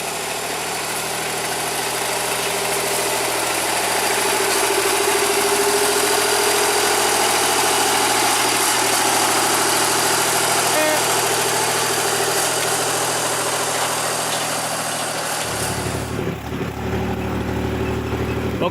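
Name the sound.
small D5 locomotive engine pulling a train of sugarcane carts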